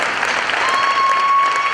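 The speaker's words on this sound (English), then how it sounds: "We can give all students a round of applause." A school assembly audience gives students a burst of loud, close applause, dense clapping with a faint steady tone running through it.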